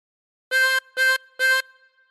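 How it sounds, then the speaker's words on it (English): A chromatic harmonica blown on hole 4 gives three short, even, reedy notes of one pitch, each about a quarter second long, separated by brief gaps. They sound close and clear with no other sound around them. "Blow into 4 3 times."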